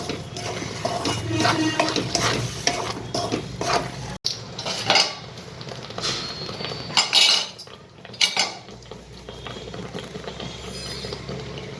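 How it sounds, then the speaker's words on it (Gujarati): A spoon scrapes and clinks against a pan, stirring a spoonful of protein powder into a grated carrot burfi mixture, with irregular metallic scraping and knocks close up and no talking. "હવે આપણે આને મિક્સ કરી લઈશું પહેલાં"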